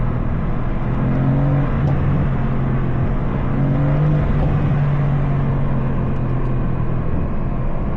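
A Mercedes-AMG C63 S engine drones loud and close from inside the cabin as it accelerates on a drive, with a steady, full-throated hum that swells slightly in pitch.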